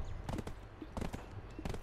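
Rhythmic clip-clop of horse hooves trotting in the video game Black Desert Online, a steady series of sharp hoof strikes at moderate volume with no talking.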